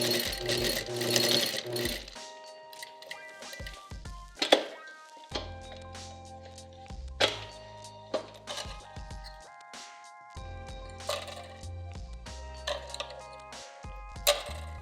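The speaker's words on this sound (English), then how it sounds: "make sure you have a heavier needle on there because you're going to be going through a decent amount of fabric and leather" A sewing machine fitted with a heavy needle stitches a strap through fabric and leather on a hat, running in loud mechanical bursts separated by pauses, with clunks and handling knocks in between.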